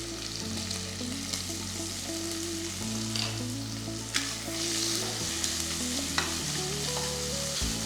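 Onion with salt and spices sautés in hot oil for a chicken biryani, a steady close sizzle and crackle with occasional sharp spatters and stirring scrapes, backed by soft background music and no talking.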